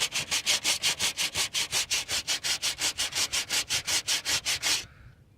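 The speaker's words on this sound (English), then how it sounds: "That's sanding up pretty good." Coarse 60-grit sandpaper rubs back and forth by hand in a shed during a drift truck transmission swap, making about two dozen regular, close scratchy strokes in an even rhythm before stopping abruptly.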